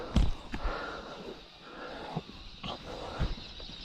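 Working dogs out in the field during a hunt give a few short snorts and puffing breaths, close to the microphone, over a steady outdoor background with no talking.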